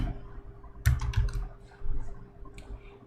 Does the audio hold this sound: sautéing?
no